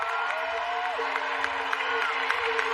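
A stadium crowd at the World Athletics Championships applauds and cheers steadily for defending world champion Dalila Muhammad before the 400m hurdles final. The sound is a far, diffuse roar with an announcer talking over it.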